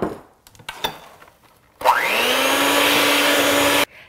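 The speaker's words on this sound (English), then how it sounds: "an electric mixer on medium speed" An electric mixer on medium speed beats eggs into peanut butter cupcake batter, a loud steady whirring hum for about two seconds after a few light knocks and clatters.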